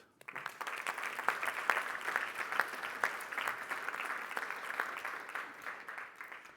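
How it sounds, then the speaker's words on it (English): A hall full of listeners at the EU Sustainable Energy Week awards ceremony claps for the finalists, a soft, slightly distant wash of many hands sustained evenly before tapering off. "let's already give all together a round of applause for all the finalists"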